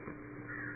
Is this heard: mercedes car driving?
no